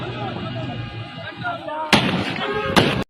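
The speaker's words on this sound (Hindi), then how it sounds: "पुलिस की जानिब से बस के टायर पर गोलियां मारी जा रही है।" Two sharp, loud police gunshots fired at a bus's tyres ring out near the end, following a stretch of muffled commotion and distant voices as a convoy is stopped.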